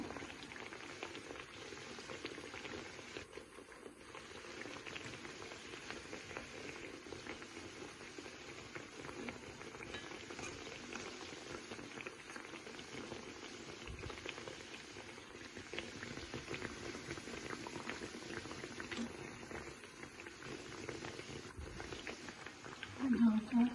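Fritters frying and puffing up in hot oil, a faint, continuous crackling sizzle that holds steady throughout and swells slightly near the end.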